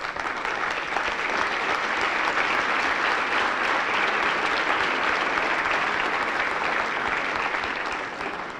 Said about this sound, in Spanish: Y quiero que le den un aplauso especial.